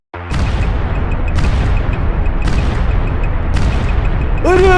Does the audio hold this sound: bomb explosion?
yes